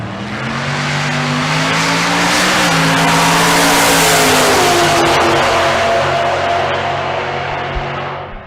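A 2007 Chevrolet Silverado roars down a drag strip at full throttle, its engine climbing loudly in pitch through the gears, then easing off as it passes into the distance.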